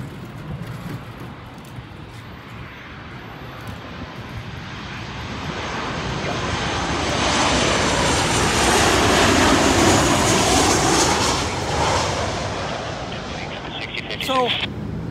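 A Delta airliner roars past close to an airport, its engine noise swelling from a steady background rumble to a loud peak midway before easing off, with occasional voices in the background.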